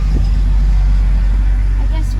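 Heavy trucks rumble past outside in a low, steady roar that stays loud and close throughout, with a voice briefly heard over the traffic.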